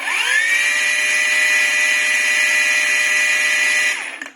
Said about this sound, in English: There are two ways to start the angle grinder.